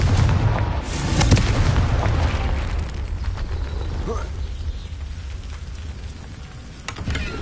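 A Confringo fire spell explodes in Hogwarts Legacy gameplay: a loud, close burst near the start, followed by a rumbling tail that slowly fades.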